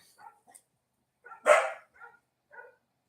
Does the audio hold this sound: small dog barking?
yes